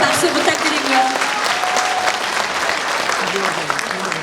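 Loud, sustained applause from a talk show audience, a thick continuous roar of clapping with a faint voice now and then beneath it.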